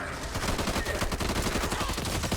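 Rapid automatic gunfire from shooting zombies in the video game Back 4 Blood, a loud, dense rattle of closely spaced shots continuing without break throughout.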